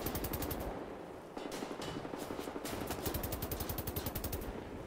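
Automatic gunfire in a video game rattles in fast, rhythmic bursts, loud and close, with a short break partway through before the rapid shots resume.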